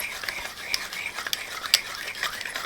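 A pepper mill grinding pepper over gravy for German potato salad, a close series of short gritty crunching cranks in an irregular rhythm, fairly quiet and heard on its own.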